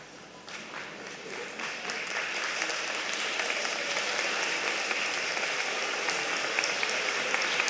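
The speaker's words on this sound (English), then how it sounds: "pick out that person or persons and applaud them" Graduates applauding their families at a college commencement, the clapping swelling from a scattered start into broad, steady applause from a large crowd in a big space.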